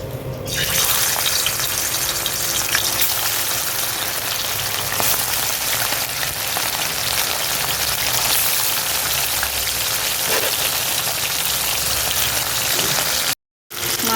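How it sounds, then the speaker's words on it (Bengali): Bata fish fry in hot oil with a loud, steady, hissing sizzle that runs unbroken and drops out only for a moment near the end. "মাছগুলো ভাজা হচ্ছে"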